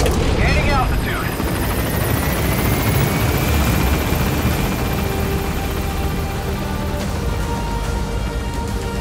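A helicopter roars loudly in Metal Gear Solid V during an extraction to Mother Base. The rotor rumble is dense and continuous as it gains altitude, with a brief mechanical sweep near the start and game voice announcements over it.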